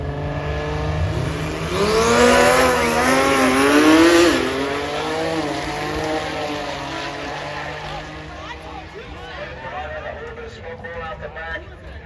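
A twin-turbo BMW drag car at a drag racing event does a burnout: a loud, close engine roar climbs and revs hard, then eases into a rougher, fluttering idle as talk runs underneath.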